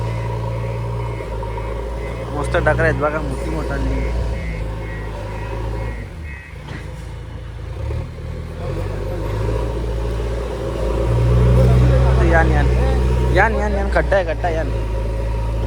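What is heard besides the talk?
JCB excavator engine running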